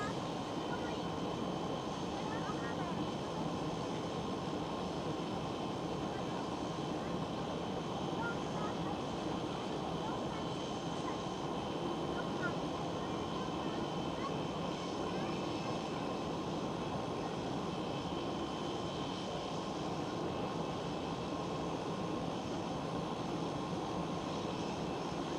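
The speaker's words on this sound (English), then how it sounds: "KLM 737 pushing back." Steady airport jet noise from a KLM Boeing 737 pushing back at Schiphol Amsterdam, a constant moderate engine rumble and hiss holding level without breaks.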